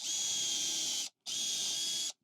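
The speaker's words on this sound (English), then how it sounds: "So again, we're going to pre-drill a 10 millimeter hole" A drill boring a 10 mm pre-drilled hole in wood gives two close, steady high-pitched whirring bursts of about a second each, separated by a short silent gap.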